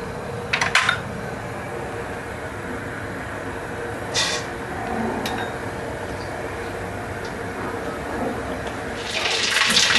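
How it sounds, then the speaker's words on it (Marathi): Mustard seeds sizzling and popping in about two ladles of hot oil for a tempering, a steady close crackling hiss with a few sharper pops, no voices over it. "आणि तडक्यासाठी पहिल्यांदा राई घालते।"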